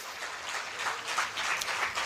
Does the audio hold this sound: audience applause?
yes